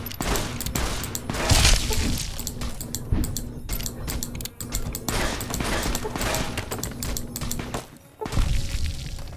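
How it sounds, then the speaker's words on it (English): Rapid bursts of gunfire in the video game Fallout: New Vegas, dense and loud across most of the stretch with a brief lull near the end before shots resume. "I'm taking way too much damage just from gunshots alone"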